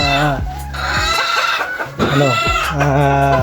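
Gamecocks (fighting roosters) and hens clucking and calling loudly nearby, with strong harmonic crowing-like calls overlapping in a steady noisy backdrop.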